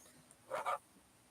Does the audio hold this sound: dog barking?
yes